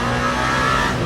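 Race car engine in Le Mans Ultimate at the 24 Hours of Le Mans, the number 8 car lapping, a loud sustained high-revving drone with steady tonal harmonics, close and continuous for a brief moment.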